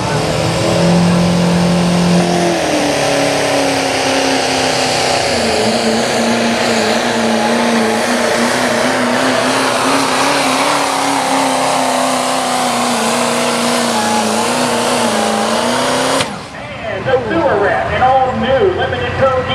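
GMC Limited Pro diesel truck at a truck pull in Mt. Vernon, Ohio: a loud, sustained engine roar that wavers in pitch as it strains, then cuts off sharply near the end, leaving rougher, quieter sounds.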